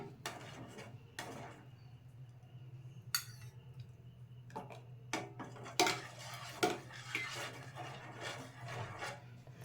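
A spoon scrapes and clinks against a pot while a vinegar and water mixture is stirred in for making paneer, quiet irregular rubbing and knocks over a low steady hum.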